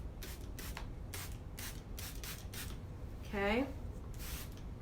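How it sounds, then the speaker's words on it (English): A spray bottle sends repeated short bursts of bleach onto a t-shirt, each a soft hissing puff at an uneven rhythm. A person speaks briefly among the sprays. "So let's start spraying this one and see what happens."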